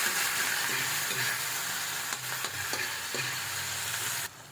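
Onion and tomato sautéing in a pan for tilapia tochong: a steady close sizzle and hiss with a few scraping stirs, the frying noise running alone until it cuts off near the end.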